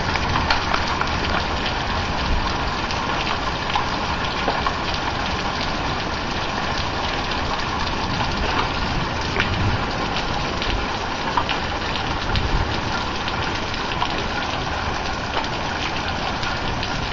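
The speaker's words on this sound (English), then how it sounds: "I got some hail going now" Hail falls during a spring storm, a dense, continuous patter and rattle on surfaces, steady and fairly loud throughout with occasional sharper impacts.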